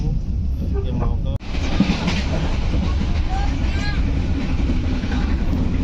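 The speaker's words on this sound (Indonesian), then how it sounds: "perjalanan dari Jakarta menuju ke Jawa Tengah bersama kereta api Bengawan" Bengawan passenger train travelling from Jakarta toward Central Java, heard from inside as a steady loud rumble with faint rail clatter, a brief dropout, and a soft voice murmuring underneath.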